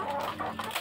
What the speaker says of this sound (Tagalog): aking mga manok pinapakain ko